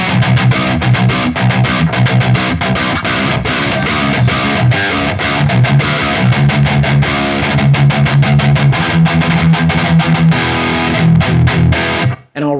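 Electric guitar driven hard through a Horizon Devices Precision Drive overdrive pedal at its sixth setting, playing a tight, chugging riff with palm-muted low notes and bright, saturated distortion, loud and continuous until a sudden stop.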